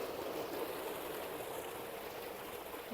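Water gushes steadily from an electric motor pump in a village setting, a continuous broadband rushing flow with no talk over it.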